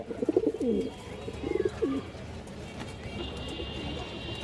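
Indian high-flyer pigeons coo in a soft, repeated rolling rhythm close by, several low burbling calls in short bursts, with faint background noise and no talking.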